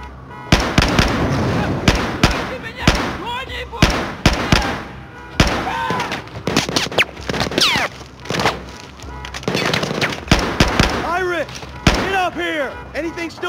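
Repeated bursts of gunfire in a Battlefield 4 firefight, sharp loud cracks in irregular clusters close by, with shouted voices and ricochet-like whines between shots.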